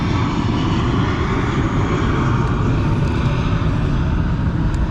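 Airplanes fly overhead with a loud, continuous, broad engine roar that fills the whole stretch, and no one speaks.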